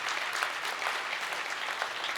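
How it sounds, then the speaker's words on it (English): A room full of guests at the Georgia Faith & Freedom Legislative Luncheon claps steadily, a dense, even patter of many hands sustained from start to finish. "Round of applause for him."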